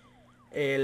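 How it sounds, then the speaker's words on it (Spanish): An ambulance siren in the video game Broke Protocol sweeps faintly, then blares up loud and close in the last moments, with a brief voice underneath. "vamos a poner la sirena"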